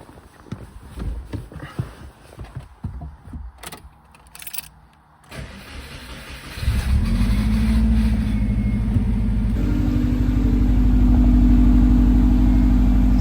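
A Subaru WRX with a misfire is driven, at first with scattered rattles and clunks from inside the cabin, then the engine comes through loud and steady as a deep, continuous drone that builds under acceleration.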